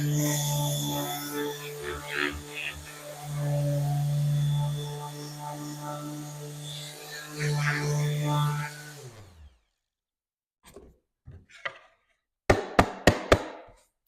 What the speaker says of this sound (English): just touch it up just a fraction with this old sander